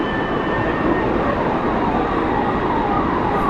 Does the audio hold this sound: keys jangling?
no